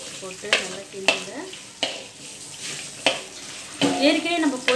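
Chicken liver sizzling in a hot pan while a utensil stirs and scrapes in repeated strokes, with a busy, crackling frying hiss throughout.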